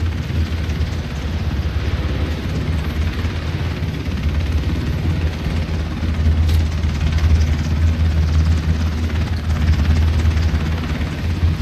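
Video game helicopter engine in an online shooter match, a steady low rotor thrum and engine drone that holds throughout and swells slightly louder in the second half, with no talk.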